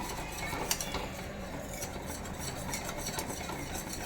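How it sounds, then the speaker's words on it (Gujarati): Homemade kulfi milk mixture is stirred in a pan over a low gas flame, with a spoon scraping lightly and repeatedly against the metal above a faint steady hum, and nobody speaking. "અહીંયા ગેસ મેં એકદમ ધીમો રાખ્યો છે અને આ રીતે હલાવતા રહીશું"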